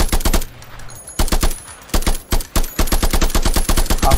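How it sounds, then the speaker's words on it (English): Rapid bursts of gunfire from a gun in a virtual reality game, loud and close, coming in quick clusters of shots separated by short pauses, with no talking. "Now use the trigger button to fire the gun."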